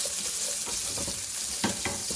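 Sliced onion tossed into hot oil with frying garlic, a loud, dense, continuous sizzle with occasional stirring clatters close by.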